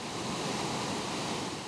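A waterfall swollen by heavy rain gives a steady, dense roar of rushing water, continuous and fairly loud throughout with no voices.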